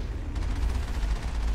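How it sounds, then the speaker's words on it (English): Continuous low rumbling barrage of tank gunfire and explosions in Mass Effect, dense and steady throughout with no voices. "Some super sweet tank combat."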